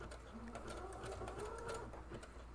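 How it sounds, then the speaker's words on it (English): A sewing machine back stitching at the edge of a quilt, a rapid steady mechanical whir and needle chatter, close but fairly quiet, with soft background noise. "Gonna get to the edge, and then we're gonna back stitch"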